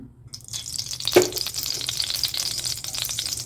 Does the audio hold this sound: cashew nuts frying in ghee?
yes